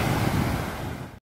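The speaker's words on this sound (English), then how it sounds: "Look at those waves." Lake Erie surf breaking on the beach at Presque Isle, Pennsylvania, a steady close wash of waves with wind buffeting the microphone, continuous for about a second and then cut off.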